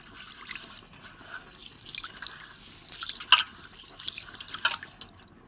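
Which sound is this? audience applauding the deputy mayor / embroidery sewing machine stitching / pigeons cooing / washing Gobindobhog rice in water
washing Gobindobhog rice in water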